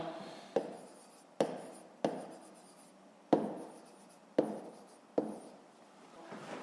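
A pen writes out a maths equation by hand, with soft scratchy strokes and six sharp taps as marks are set down, close and quiet with no talk.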